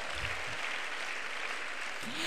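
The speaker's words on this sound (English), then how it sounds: "Please, teachers, clap for yourselves. Students, clap for your teachers." Students and teachers clapping together at a girls' senior high school speech and prize-giving day, a broad distant wash of applause from a big crowd, steady and fairly soft throughout.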